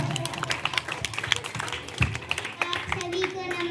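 A school debate competition audience claps for a young girl, with a scattered burst of hand clapping running under a voice, moderately close and fading toward the end.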